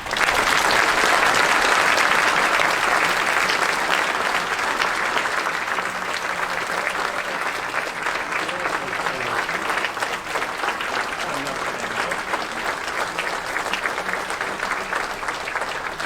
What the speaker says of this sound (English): us all give a round of applause to the Mississippi Golf Association